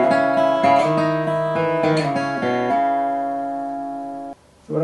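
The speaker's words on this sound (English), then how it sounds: "I just added a hammer-on in a couple of the cases and a slide backwards in one of the instances there" Solo banjo melody from We Three Kings, close and clear, a quick series of plucked notes decorated with hammer-ons and a backward slide, ending on a long ringing note that decays before being cut off.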